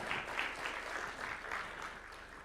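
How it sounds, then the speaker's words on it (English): Audience applause for His Excellency at a State House event, a steady wash of clapping, moderately distant and fairly faint, holding evenly throughout without talk. "Another round of applause for His Excellency,"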